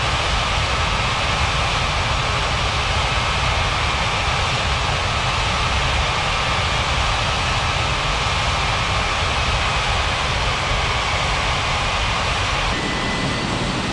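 A passenger airliner's jet engines roar steadily at takeoff power in an air traffic control game, a loud continuous broadband rumble with a faint thin tone running through it, no speech.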